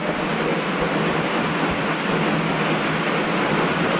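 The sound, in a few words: rain falling outside a farm barn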